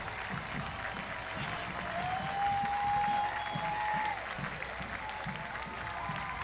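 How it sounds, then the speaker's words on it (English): A stadium crowd at a college football game applauds and cheers as a team takes the field, a broad sustained wash of clapping that swells in the middle, with an announcer's voice and a whistle-like tone over it. "a big hand by the crowd here at Castleton at Spartan Stadium"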